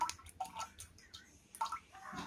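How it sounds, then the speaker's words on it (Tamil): Milk is poured from a container into a heavy-bottomed pan while making malai kulfi: a soft, quiet liquid splashing and gurgling that comes in short bursts with brief pauses. "இப்போ பால் எல்லாத்தையும் நம்ம சேர்த்துரலாம்"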